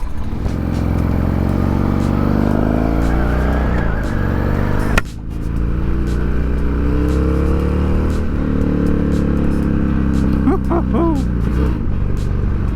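Motorcycle fitted with a Danmoto two-into-one exhaust with baffles installed, revving loudly and steadily close by, with a brief drop in engine note around the middle and rising revs near the end.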